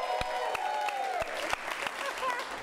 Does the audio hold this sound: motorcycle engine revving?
no